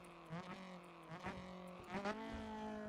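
A Honda S2000 in the Assetto Corsa racing game on a wet track, its engine note stepping through quick downshifts with blips and revs rising and falling, fairly faint and steady.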